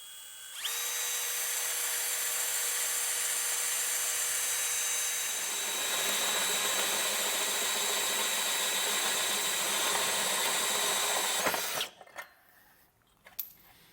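A power drill bores through an aluminum part while a base plate goes onto a 2021 Jeep Grand Cherokee, a loud close whine held steady for about eleven seconds, then cut off, followed by a few light clicks.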